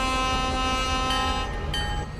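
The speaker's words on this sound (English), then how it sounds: "Ooh, new train." A train in the video game The Islands sounds a sustained, loud horn with steady tonal blasts over a rolling rail rumble, heard close and alone.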